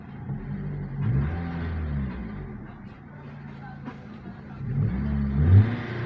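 A third-generation Toyota Vios with a dual VVT-i engine that stalls when the gas pedal is pressed, idling and revving during a diagnosis, a steady low engine hum that rises twice, nearby.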